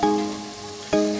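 Chicken and sour yogurt gravy stirred in a pan, two scraping strokes at the start and end with a steady soft sizzle between, close and alone without talk.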